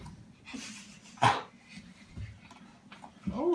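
A person imitates a dog barking, giving a sharp yelp in the middle and a rising whine-like bark near the end, with soft breathy vocal noises between.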